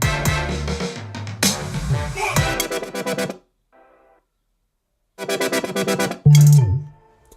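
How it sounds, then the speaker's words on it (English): Future bass synth chords in a music production play loud, with choppy, pulsing stabs. They cut out into a near-silent gap, then return with a heavy bass hit at the end. "So do you hear the future bass thing right here?"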